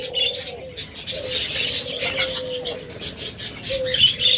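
Caged pet budgerigars, cockatiels and lovebirds chirp in quick, bright bursts, several birds calling over each other at close range with short pauses between.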